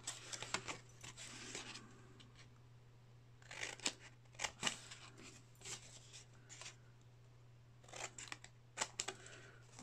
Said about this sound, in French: On prend un ciseau et on va couper jusqu'au petit repère.